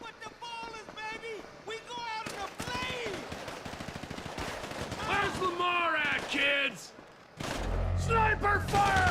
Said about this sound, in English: Sniper fire!